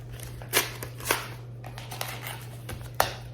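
A mailed sticker club package being opened up close, with a string of soft crinkling, tearing and rustling paper or plastic sounds, some louder pulls, over a steady low hum.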